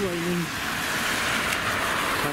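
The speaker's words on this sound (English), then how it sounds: "Still raining." Steady rain falls as a constant, even hiss close by, with a brief low hum at the start and end.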